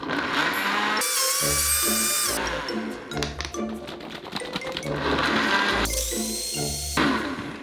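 A Ninja Blendboss blender churns a thick blueberry mixture. Its motor whines loudly in surges, bogging down and labouring between bursts as if struggling against the dense blend.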